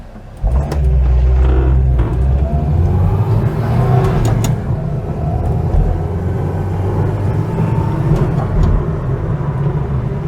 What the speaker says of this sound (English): that's decently brisk roundabout acceleration